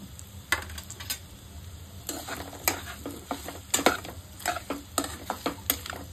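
Arbi masala with turmeric and spices is stirred in a pan: soft scraping strokes and sharp clicks of a spoon on metal come in an irregular rhythm over a faint, quiet sizzle.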